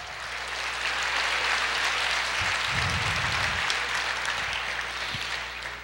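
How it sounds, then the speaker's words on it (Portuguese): A church congregation applauds during a sermon, a dense, continuous wash of clapping that holds steady at full volume for about six seconds before easing slightly. "Aplauda o Senhor"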